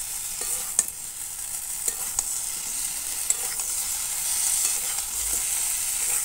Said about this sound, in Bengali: এবার ভেজে রাখা আলু আর পটলটা আমি দিয়ে দিচ্ছি। সব একসাথে একটু কষিয়ে নিচ্ছি।